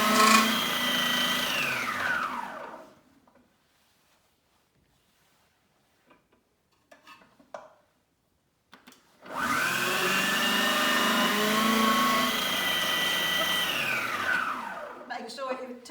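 A Magimix citrus press juicing oranges whirs loudly for a couple of seconds, then winds down. After a quiet gap with a few small knocks and clicks, the motor starts again with a steady, close drone that slows to a stop at the end.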